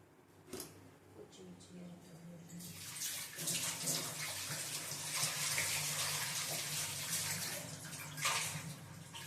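Tap water runs and splashes steadily while dishes are washed by hand, the flow growing louder after a quieter start, with clatter and a voice speaking faintly underneath.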